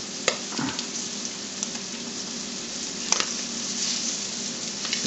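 Rabbit liver and onions flash frying in a pan, a continuous moderate sizzle with a few sharp pops and spatula taps, close by and without talk.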